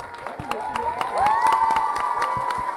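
A school audience claps and cheers after a Thai literary drama performance of Khun Chang Khun Phaen at a girls' school, with sharp distinct claps over a swelling crowd roar, high excited shouts and whoops rising midway.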